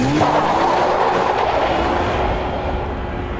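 A Nissan 370Z's 3.7-litre V6 revs hard under acceleration, a loud, steady drone with a rising engine note and some tire noise, close by and without any talking.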